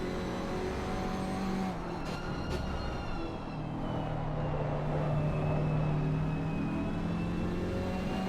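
AMG GT4 race cars lap in a sim racing game at the Nürburgring, a steady engine drone with faint tonal whines layered over a continuous mid-level rumble, no voices.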